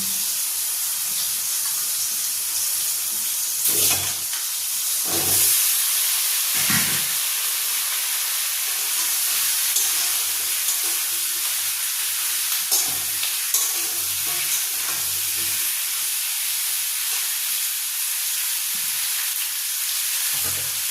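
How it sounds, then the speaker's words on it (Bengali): Potatoes and pumpkin hit hot oil in a pan for a Bengali curry, giving a steady close sizzle and hiss throughout, with a few louder bursts and scraping stirs early on. "আগে আলুগুলো দিয়ে দিচ্ছি, তারপর দিয়ে দেবো কুমড়োগুলো।"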